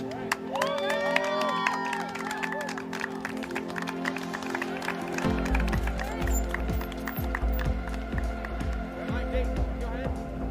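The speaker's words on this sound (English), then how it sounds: "The Covenant team is ready to cheer them on." A solar car team cheers, claps and whoops trackside as their car comes off the track at a solar car challenge; a steady crowd roar and scattered claps run beneath a commentator's voice for about ten seconds.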